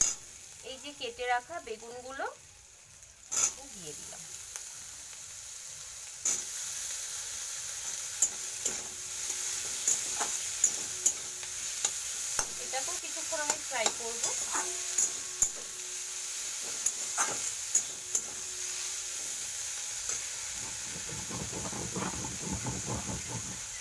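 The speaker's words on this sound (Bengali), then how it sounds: "বেশ কিছুটা ভাজা হয়ে গেছে" Onions frying in a pan give a continuous loud sizzle and steamy hiss, with occasional stirring scrapes. A voice speaks briefly at the start and again partway through.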